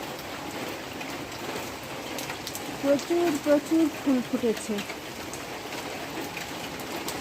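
Steady rain falls outdoors in a garden of flowering plants, a soft even patter throughout, with a person speaking briefly over it midway.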